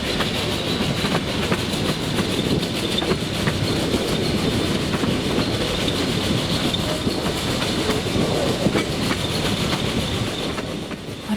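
Narrow gauge train on the Velay Express line, a high-climbing French railway, climbs gradients of about 1 in 36 in damp, cool weather, with continuous rumbling wheel noise and rhythmic clickety-clack throughout, loud and close, with no voices.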